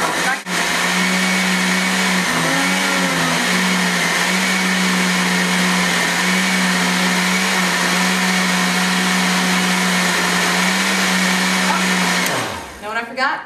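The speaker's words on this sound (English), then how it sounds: "Give my blender a break." A blender runs loudly and steadily for most of the clip, its motor pitch wavering briefly as a kale smoothie churns, then it winds down and stops near the end.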